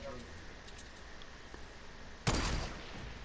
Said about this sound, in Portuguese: tiro, tiro